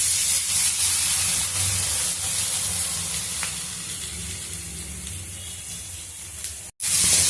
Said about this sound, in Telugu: ఈ పొడిని అంతా బాగా వేయించుకున్నాము. కొంచెం పొడి పొడిగా వచ్చేంత వరకు వేయించుకున్నాం.